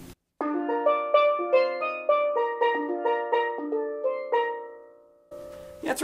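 Steel drums play a bright, bouncy melody from The Little Mermaid in a tropical Caribbean style, with a run of clear ringing struck notes that fades out near the end.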